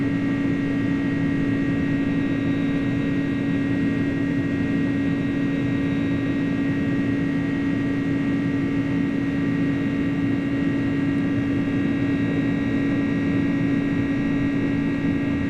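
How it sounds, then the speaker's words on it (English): Flight Simulator 2024 recreates the iniBuilds A300 airliner in flight: a steady, unbroken engine drone with a strong low hum and even tonal whine, no voices. "This airplane sounds so good once it's airborne."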